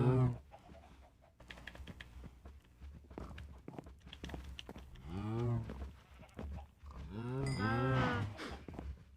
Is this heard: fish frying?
no